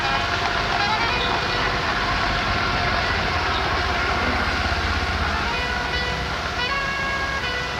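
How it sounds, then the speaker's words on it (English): A big steam lorry rolls past in a busy street, giving a continuous heavy rumble with a hissing, rail-like clatter and faint tonal whines riding over the background traffic. "A big steam lorry has just passed."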